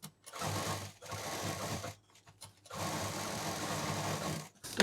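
A sewing machine stitches lace onto a party purse in two long, steady whirring runs with a short pause between, ending in a brief click; the sound is close and fairly quiet, and nobody speaks.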